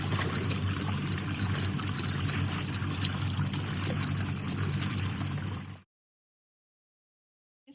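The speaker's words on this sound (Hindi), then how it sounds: "इसका पानी गिराते हैं, फिर और पानी डालते हैं।" Water is poured out of a container during the cleaning of beef tripe, a continuous steady splashing flow lasting several seconds, then cutting off into silence.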